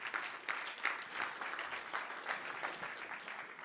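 Audience applause fills the hall at a grand opening and programme launch ceremony, a steady wash of clapping with a few swells, fairly close and without voices over it.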